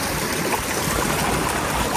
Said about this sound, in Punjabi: ਝਰਨਾ ਵਾਓ